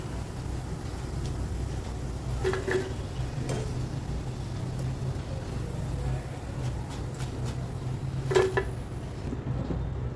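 Mung dal pakoras deep-frying in oil over a raised gas flame, a continuous low bubbling sizzle with a few light clicks of a utensil against the pan.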